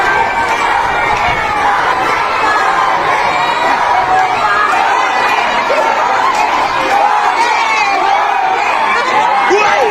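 A packed crowd shouts and cheers for Yorme Isko Moreno, a loud, continuous wall of voices with whoops and excited children's yells, dense chatter blending throughout without a break.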